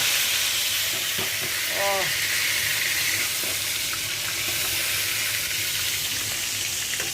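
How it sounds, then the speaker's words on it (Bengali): Meat for roast frying in ghee and oil, a dense continuous close sizzle with a few stirring clatters and a brief voice in the background. "আর আমি কিন্তু ঘি আর তেল দিয়ে রোস্টটা ভেজে নিচ্ছি, রোস্টের মাংস ভেজে নিচ্ছি।"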